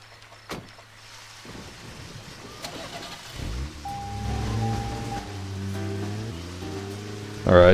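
Car being parked in the Deadly Premonition video game, with an engine idling low under rain-like hiss, then a rumbling engine note with shifting tones and a louder burst at the end.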